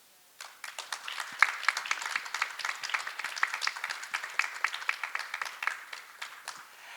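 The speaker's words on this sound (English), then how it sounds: "may I also ask all the audience to join me to give them a big round of applause." A conference audience gives a round of applause, a dense, steady patter of many hands clapping that starts abruptly and continues evenly for several seconds at moderate distance.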